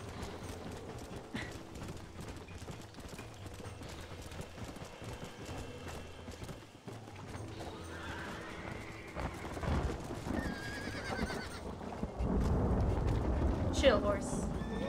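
Hooves clip-clop and a horse whinnies in Red Dead Redemption, with game sound effects and a voice talking over it, building louder toward the end.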